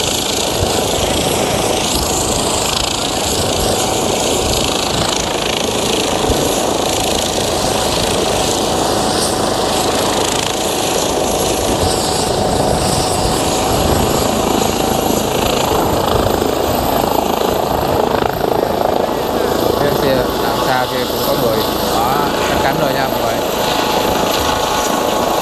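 A helicopter carrying a maritime pilot out to a ship gives a loud, steady rotor and turbine roar up close for the whole stretch, with faint voices buried beneath the noise.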